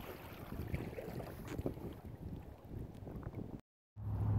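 Strong outdoor wind buffets the microphone near a spillway, a steady low roar with gusty rises, briefly cut to silence near the end before the rumble returns.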